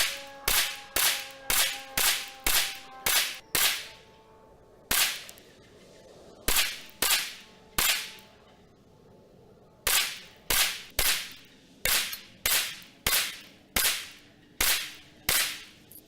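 Sharp, loud pistol shots from a Rock Island 1911 .45, fired in quick bursts of several rounds with brief pauses between strings, each crack ringing out with a short echo.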